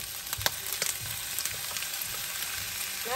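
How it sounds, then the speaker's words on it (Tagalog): Shrimp sautéing in a pan with browned onion, a steady close sizzle and frying hiss with a few brief clinks and stirring scrapes, no voices. "Next is we have to saute our shrimp."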